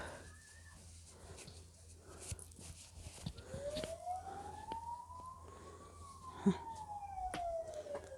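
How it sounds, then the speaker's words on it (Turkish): A distant siren wails, rising and falling faintly beneath a busy background with scattered noises and a sharp knock. "Siren sesi var."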